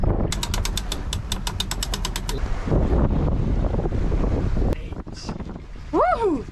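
Steady wind roars and buffets the microphone on a sailboat offshore in 15 to 20 knots, running with a reefed main, mixed with a rapid ratcheting winch click and rigging noise, while a voice speaks briefly underneath.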